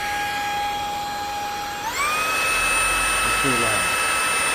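Lotus X30 Pro cordless vacuum cleaner switched up to max power, its steady motor whine jumping sharply in pitch and staying loud and continuous, with a brief word spoken over it.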